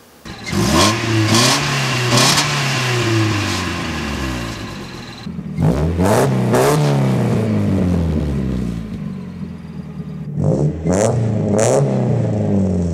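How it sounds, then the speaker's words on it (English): A 1990-97 Mazda Miata with its stock exhaust revs hard several times, rising and falling in pitch with a throaty exhaust note, loud and close, with brief drops to idle between. "let's check and see how the stock exhaust sound"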